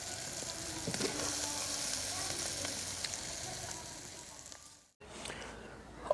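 A moong dal and vegetable dish sizzles and fries in a pan with a steady crackling hiss and occasional stirring, briefly cutting out near the end before the frying resumes more quietly.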